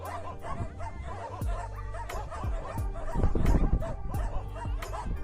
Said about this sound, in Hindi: जिसके ऊपर मोहल्ले के कुत्ते भौंक रहे हैं